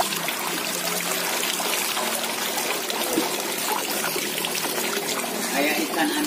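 Clear mountain water in a rural Sundanese setting flows and trickles steadily nearby, a continuous bright rushing wash with no pauses.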